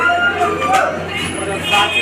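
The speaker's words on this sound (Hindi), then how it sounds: "यहाँ पे आप भीड़ देख सकते हो किस तरह है" A dense crowd of pilgrims at the Vaishno Devi shrine gives off a steady, loud babble of many overlapping voices, with nearby talking throughout.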